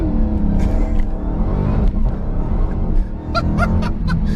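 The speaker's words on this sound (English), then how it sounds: "you can hear that supercharger whine" A 2020 Dodge Challenger Hellcat Redeye Widebody launches hard, its supercharged engine roaring loud and low with a layered whine, rough and continuous, with brief higher squeals near the end.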